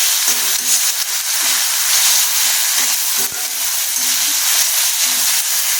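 Spices sautéing in a pan for mung dal, a steady loud sizzle and crackle close by, with occasional soft scraping of a spatula stirring them.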